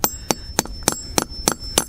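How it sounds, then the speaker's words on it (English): A hammer taps a metal spile into a maple tree outdoors for sap collection, producing seven sharp, evenly spaced metallic strikes about a third of a second apart, close and clear. "Hammer it in on that top piece."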